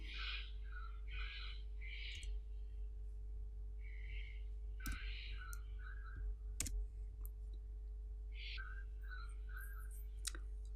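A computer mouse gives a few faint, sharp clicks spaced seconds apart during spreadsheet work, amid soft rustling and breathy background sounds in a quiet room.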